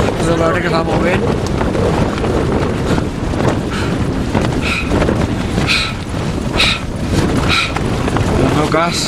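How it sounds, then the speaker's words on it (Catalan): Loud, relentless wind on Everest at 7,500 metres roars and buffets the microphone in unbroken gusts, with a voice faintly present under the noise. "Us a veure que fa molt vent."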